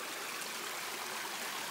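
A small stream flows near its source on a farm outside Brasília, a continuous soft rushing and trickling that stays even throughout, with no voices.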